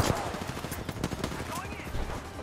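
Rapid bursts of automatic gunfire in Apex Legends, loud and close, firing in quick stuttering volleys across the whole moment, with a player's voice talking over the shots.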